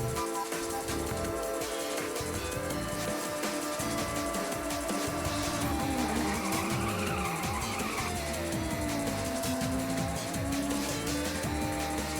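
A car drifting in Ridge Racer Type 4, with a continuous roaring engine and long screeching tire skids sliding up and down in pitch, loud and unbroken throughout the twelve seconds.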